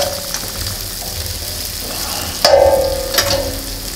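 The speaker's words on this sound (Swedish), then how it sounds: "Jag drar runt löken lite där." Onion frying on a hot griddle makes a steady, loud sizzle, broken midway by a sharp scrape as a utensil stirs it around, followed by livelier crackling and no talk.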